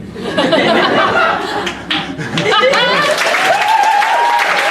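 Audience at a stand-up comedy show applauding amid laughter and chuckles, a dense, loud, continuous wash of clapping with mixed voices and chatter throughout.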